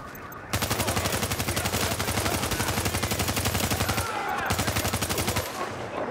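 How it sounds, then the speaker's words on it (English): Rapid automatic gunfire in Tom Clancy's The Division, with sustained bursts of shots at a steady fast rhythm that run loud and continuous, pausing briefly once before resuming. "They're just shooting on civilians."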